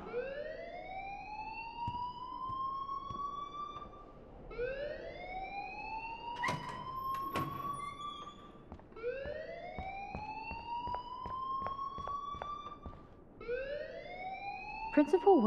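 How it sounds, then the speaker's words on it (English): A school alarm in the video game Life Is Strange wails in repeated rising sweeps, about four cycles, loud and continuous while people talk over it. "please turn off that alarm since that's your job."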